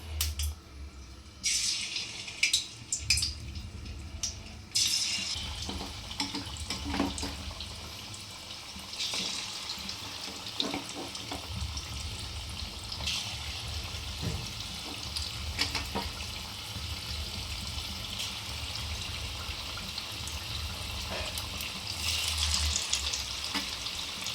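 Chicken pieces fry in hot oil with a steady, close hiss and crackle, along with occasional clinks and handling noises.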